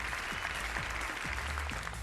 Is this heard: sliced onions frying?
no